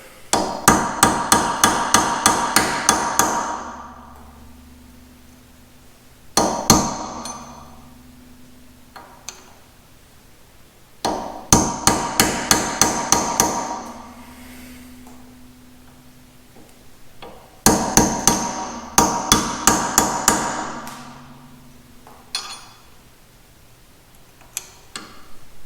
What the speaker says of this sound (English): you can use a screwdriver that you're willing to beat on a little bit